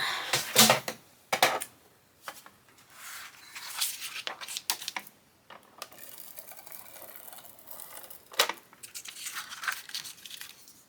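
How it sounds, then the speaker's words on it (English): A handheld tape runner lays adhesive onto paper for a sketch journal cover topper, giving repeated crackly rolling and ratcheting bursts, close and uneven, across a quiet background. "I'm going to use my tape runner here to put this on"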